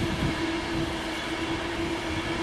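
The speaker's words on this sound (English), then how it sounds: "Here comes an Avanti West Coast Pendolino" An Avanti West Coast Pendolino class 390 electric train rushes past at South Hampstead, a loud, steady rolling roar with a sustained tonal hum throughout.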